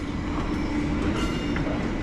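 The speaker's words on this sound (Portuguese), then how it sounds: "Esse trem aí deve ser de minério, né?" An ore freight train rolls past at close range near a historic railway village, a loud, steady rumble of wagons and wheels with faint metallic squeal, and no talk.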